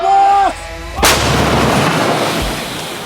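A single heavy blast from a self-propelled artillery gun booms out after a brief low mechanical hum, followed by a long rumbling echo that slowly fades.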